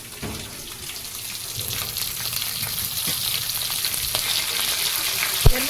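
Katla fish heads fry with spices, turmeric and salt in a pan for a fish-head dish, a steady crackling sizzle that builds slightly, with scattered stirring taps and one sharp knock near the end, no voices.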